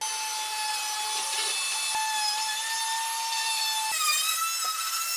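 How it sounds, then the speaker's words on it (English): A handheld router fitted with a round-over bit routes the edges of a wooden side table built from 2x6 boards, giving a steady high whine with strong tonal harmonics that runs continuously, with small pitch shifts as the cut changes. "route the edges with my round over bit, my router"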